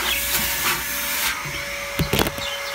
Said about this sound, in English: This is a really old Hoover,